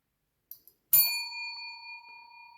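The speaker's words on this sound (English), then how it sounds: "There's that bell." A small bell strikes once with a bright, clear ding after two faint taps, then its pure ringing tone hangs and slowly fades, near and alone with no talk.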